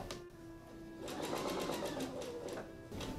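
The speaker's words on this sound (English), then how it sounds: "I'm going to continue sewing with a 3/8 of an inch seam allowance." A sewing machine stitches a pajama bottoms seam at a 3/8 inch allowance, starting with a back stitch: a brief slower run, then a steady, close, continuous whir that pauses near the end before restarting.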